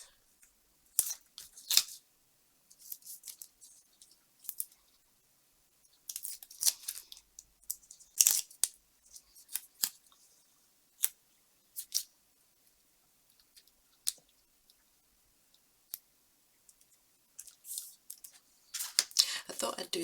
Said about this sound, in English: Might need to just trim a little bit more of his tail off.